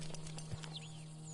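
Horse hooves clip-clop in Red Dead Redemption 2, a few quick, light steps at moderate distance over a steady low in-game hum, with no voices.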